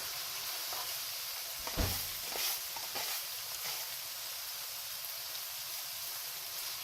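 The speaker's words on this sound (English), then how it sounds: "So I want to saute my onions a little bit so they get like a golden brown to them." Onions sautéing in a pan, a steady soft sizzle and hiss running throughout with a few faint clinks near the start.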